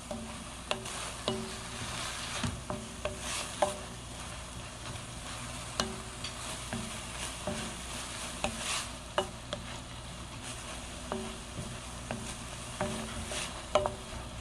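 Seaweed stems and onion stir-fried in an open pan, a soft continuous sizzle under frequent sharp clicks and scrapes of a utensil against the pan, fairly close and moderately quiet.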